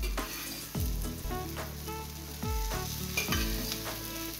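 Rawa-coated sole fish shallow-frying in oil over a low flame, a steady close sizzle with periodic scraping and stirring strokes and low rumbling knocks of the pan, no voices.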